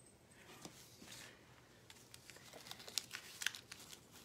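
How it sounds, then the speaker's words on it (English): Cream cheese packages being unwrapped in a home kitchen: soft crinkling and tearing of foil wrapper, quiet and close, growing into sharper crackles toward the end. "I should probably unwrap these ahead of time"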